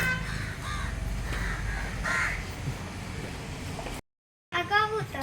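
Crows cawing at a distance, a few hoarse calls rising over a steady outdoor hum, with voices talking nearby, a brief gap, then more close harsh caws.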